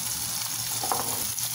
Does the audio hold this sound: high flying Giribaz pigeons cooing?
no